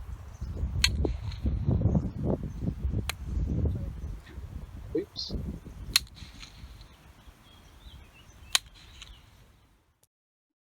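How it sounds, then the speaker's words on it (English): Wooden blocks clapped together outdoors, giving several sharp, loud cracks spread through the clip, each trailed by a softer, muffled echo, over a background of low rumbling and breezy outdoor noise. "you get a bang, which is quite clear, and then you get a slightly muffled bang, which is the echo going back"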